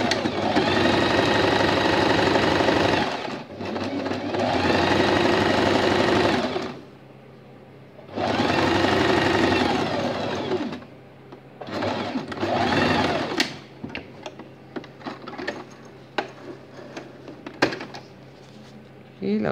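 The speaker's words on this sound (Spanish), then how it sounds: "Coso la parte de delante, esta de aquí." A sewing machine stitches fabric for a zipper pocket in bursts, running loud and close for a few seconds at a time, with pauses and light handling noises between runs; a voice speaks briefly.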